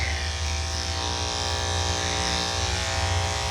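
Electric clippers run continuously at close range with a steady droning buzz while trimming a poodle's coat into a teddy bear cut.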